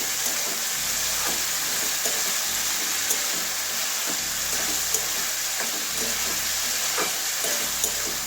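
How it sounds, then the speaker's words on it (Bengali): Chopped medium tomato frying in spice paste for an eggplant and egg omelette curry, a steady loud sizzle and hiss with faint periodic scrapes of stirring, close and unbroken throughout, no voices. "একটা মিডিয়াম সাইজের টমেটো কেটে নিয়েছি, টমেটোটা দিয়ে দিচ্ছি"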